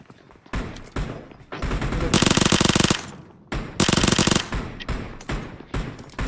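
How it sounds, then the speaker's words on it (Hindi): Automatic gunfire from a bot in the mobile battle-royale game BGMI, with dense rattling bursts that swell to loud sustained volleys in the middle, over a steady noisy game background, with some talk. "bot fire"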